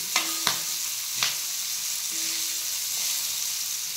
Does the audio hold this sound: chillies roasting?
yes